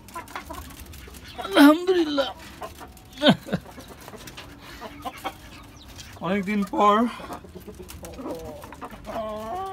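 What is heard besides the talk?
native chickens clucking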